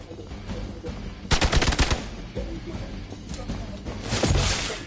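Bursts of rapid gunfire in the Midnight Suns video game, a loud rattling volley around the middle and another near the end over a rumbling game backdrop, with faint talk between.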